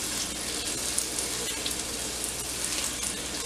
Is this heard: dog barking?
no